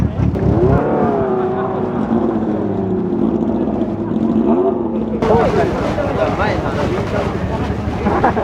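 Loud modified bosozoku motorcycles rev repeatedly at a New Year event in Japan, with rising and falling engine tones and a burst of louder, rougher exhaust noise in the second half.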